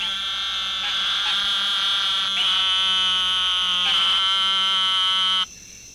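Loud, continuous nasal buzzing frog call, held for several seconds with a few brief breaks, close and alone before cutting off abruptly.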